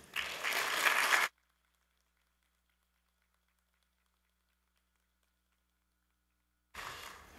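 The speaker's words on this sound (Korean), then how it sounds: "우리 문영주 선교사님 나오실 때 큰 박수로 환영해 주시기 바랍니다" Loud applause in a church for about a second, then near silence, with clapping starting up again at the end.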